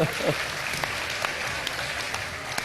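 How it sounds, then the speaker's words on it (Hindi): A studio audience at a Ramadan iftar television show applauds together, a continuous even roar of many clapping hands with a few sharper claps, while a brief voice sounds at the very start. "इन सब पोटेंशियल रोजेदारों के लिए तालियां बजा दें एक दफा सब मिलके"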